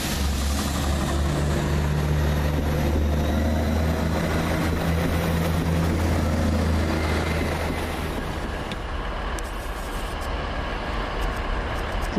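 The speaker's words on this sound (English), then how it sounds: "That's 159018 leading with the 15:30 Salisbury Waterloo service" A Class 159 diesel multiple unit works through Basingstoke station with a heavy, steady engine drone and low throbbing hum that holds close and loud, then eases slightly as the rumble continues over rail noise.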